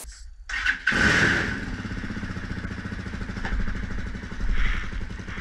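A tractor engine fires up close by during electrical testing, catching after a short crank about a second in, then settling into a steady, rhythmic putter with a brief rev near the end, with no talk over it.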